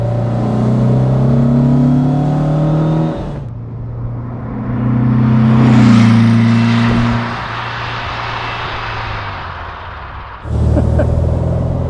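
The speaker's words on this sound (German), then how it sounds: "Ja, jetzt noch einmal schön beschleunigen." A 1964 Porsche 356 SC Cabriolet accelerates hard from inside the car. The loud engine drone climbs, drops away to a rushing wind-filled stretch, then swells again, and returns abruptly near the end.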